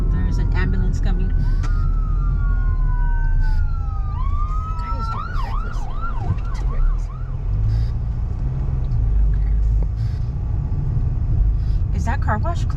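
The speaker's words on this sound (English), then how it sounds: "and there's an ambulance coming." An ambulance siren wails and sweeps through rising and falling tones as it approaches in traffic, heard from inside a moving car along Hesperia Road toward Bear Valley Road in Victor Valley, over steady road rumble while people in the car talk.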